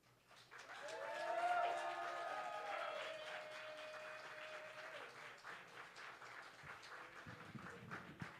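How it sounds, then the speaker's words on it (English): Poetry slam audience breaks into applause mixed with loud vocal whoops and cheers that swell early, then settle into steady clapping that carries on to the end. "Keep that round of applause going for Clara Greenstein."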